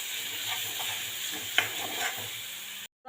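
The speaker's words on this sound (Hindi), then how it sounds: "टमाटर के संग अब हम अच्छे से भूनेंगे ताकि अदरक का कच्चापन निकल जाए" Grated ginger and tomato sizzle and fry steadily in a pan while being stirred, a continuous close hiss with a brief scrape partway, cutting off abruptly near the end.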